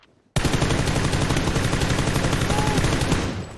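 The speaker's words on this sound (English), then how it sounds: "getting shot from my right." Video game gunfire from an online shooter: after a short quiet start, a loud, rapid, sustained automatic burst rattles on for about three seconds and then fades slightly, with no voices over it.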